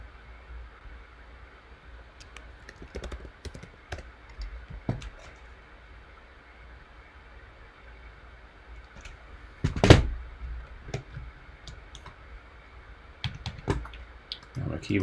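Typing on a computer keyboard during a music writing and recording session, with scattered clicks and key taps under faint talk and a louder clatter near the middle.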